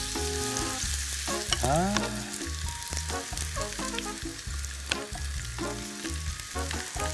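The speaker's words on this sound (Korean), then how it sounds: "이런 좀 소리가 나면 좋아요. 전을 지지실 때." Steady sizzling of potato pancake batter frying in a hot pan, close and continuous, with a few clinks and scrapes of a utensil and a brief voice.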